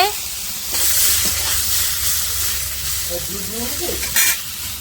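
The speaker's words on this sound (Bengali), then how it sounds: "তেল তেতে গেছে বরবটিগুলো দিয়ে দিচ্ছে" Yardlong beans hit hot mustard oil in a wok, giving a loud, steady sizzle with bursts of hissing and stirring scrapes; a voice briefly sounds beneath the frying.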